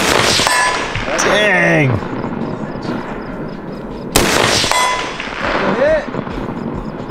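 Gunshots fired outdoors, each followed by a bright metallic clang of bullets striking a steel target, two distinct shot-and-ring pairs a few seconds apart, with excited voices and cheering around them.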